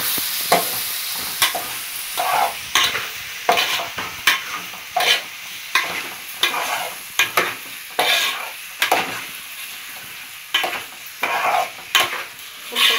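Half a kilo of chicken with ginger garlic paste and turmeric sizzles loudly in a hot pan, broken by regular scraping stirs of a spatula, close up and with no talk.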